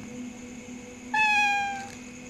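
A black cat gives a single clear, drawn-out meow partway through, close and fairly loud over a quiet indoor background.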